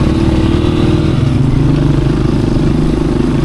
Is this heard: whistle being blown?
no